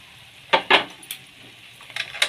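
Cooked rice is stirred into ripened raw mango in a metal vessel for pulihora, with a few sharp utensil scrapes and clinks spaced apart, close and fairly quiet, and no talk.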